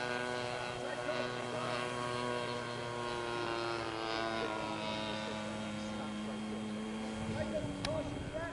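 Steady propeller-engine drone from an F4B aircraft on its takeoff run, a continuous harmonic hum with a slight pitch shift near the end, heard close and fairly loud throughout.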